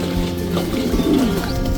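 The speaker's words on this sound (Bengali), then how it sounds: "এবার আমার কবুতরগুলোকে ছাড়ার পালা" Pigeons coo softly in a low, throaty murmur, close by, over steady background noise.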